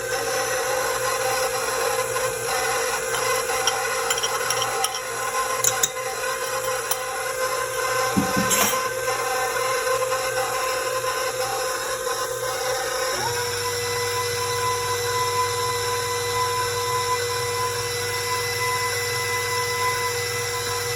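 A stand mixer kneads yeast dough of all-purpose flour for cinnamon rolls, a steady motor whir with a brief knock midway and a shift in pitch partway through, continuous and close.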